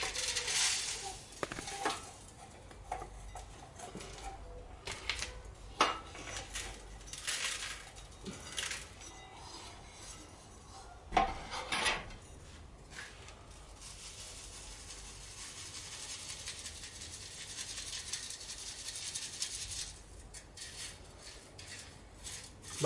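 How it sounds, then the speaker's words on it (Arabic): Damaged gunpowder is shaken through a sieve, giving a gritty, rustling hiss with irregular sharp clinks and taps from the sieve, close by and fairly quiet, without speech. "بس انا حبيت اغربل على مود اوصل الفكرة للمشاهدين"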